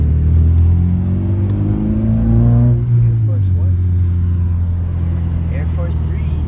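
A car drives along with a low, steady engine rumble and shifting pitch as it rolls and accelerates, the drone running throughout while people talk over it from inside the cabin.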